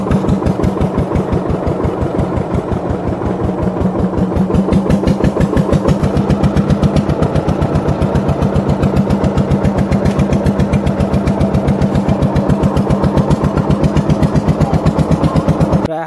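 Engine of a wooden fishing boat on a Sundarbans river, a steady rapid chugging putter running loud and close without pause, with no talking over it.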